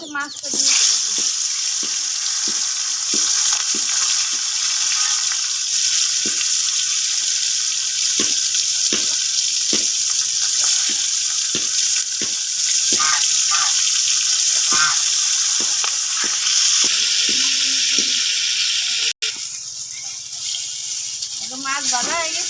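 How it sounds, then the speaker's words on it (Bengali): Fish frying in oil in a wok, with salt sprinkled in the pan first, gives a steady close hiss with scattered crackles and pops that run the whole time before briefly thinning near the end. "কড়াইতে তেল দিয়ে দিই মাছ ভাজার জন্য"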